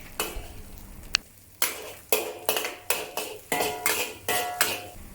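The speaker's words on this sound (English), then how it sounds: "push the egg gently and break it up into small pieces" A spatula scrapes and pushes setting egg around a wok, breaking it into small pieces: a dozen or so short scraping strokes in an irregular rhythm with light clinks of the utensil on metal, close and moderately loud, with no speech.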